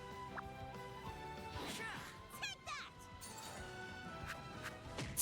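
Power smash attacks in a video game battle against elemental cats, heard as several sharp crashing impacts with swishing sweeps amid layered game music and effects, with a person talking over it.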